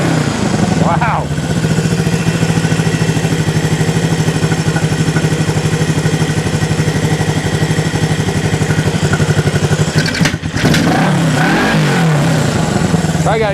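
A 1974 Honda CB360 motorcycle in need of a lot of work, its engine running close and loud with a sustained raised rev, dropping and picking back up near the end, with a voice talking over it.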